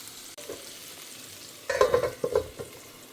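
Eggplant fries in oil in a covered pan. A quiet hiss breaks into bursts of sputtering, crackling spatter partway through, with no speech.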